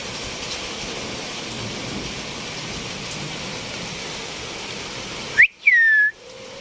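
Steady rain hisses evenly for several seconds, then cuts off abruptly and a short high whistling tone takes its place.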